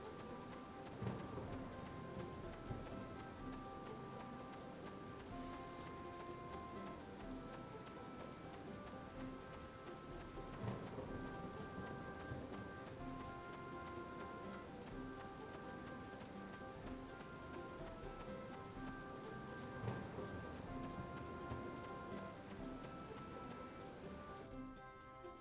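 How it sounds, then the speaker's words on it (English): Thunderstorm with rain in Harvest Moon Animal Parade, a soft steady patter of rainfall with low rumbles, beneath a gentle looping melody with sustained tones, no voices. "Not sure if he'll take us out in a thunderstorm."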